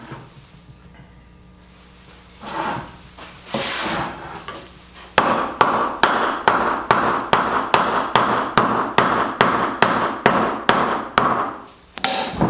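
Tenons of a farmhouse trestle table base being driven home with a hammer: after a few quieter knocks, a steady run of about a dozen loud, evenly spaced blows on wood rings out close by.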